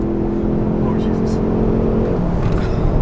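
A Hyundai Veloster N driven hard around a race track, its engine a steady, loud drone with road and tire roar throughout, people talking excitedly over it.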